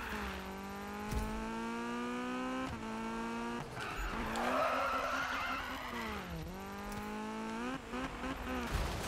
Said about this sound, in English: this car is actually sliding a lot in fifth gear